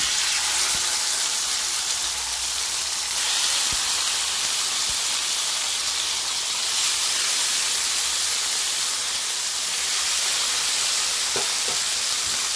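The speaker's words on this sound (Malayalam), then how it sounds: "ചിക്കൻ 2 മണിക്കൂറായി ഇത് മാരിനേറ്റ് ചെയ്ത് വെച്ചിട്ട് നമുക്കിതിലേക്ക് ഇട്ട് കൊടുക്കാം." Marinated chicken fries in hot oil for grilled chicken, a constant close sizzle and hiss that holds steady, with a few faint clinks.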